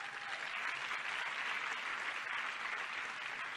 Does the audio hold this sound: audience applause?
yes